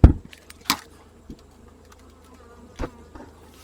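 Honey bees buzz in a steady, close drone at an opened hive box housing a swarm moved from a nuc in June, during a September inspection, with a few sharp taps and knocks of hive tools or frames over the hum.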